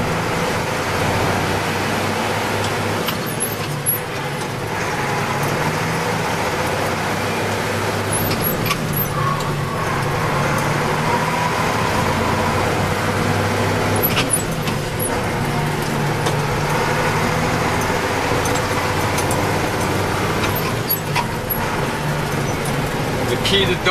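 A truck engine drones steadily as the driver double clutches through the gears on an upshift, heard from inside the cab with someone talking over the engine noise.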